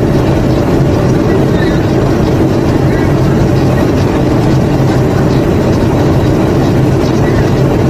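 An exhaust fan motor drawing high current, about 42 amperes, runs with a loud, constant low drone and a rough rumble that never lets up.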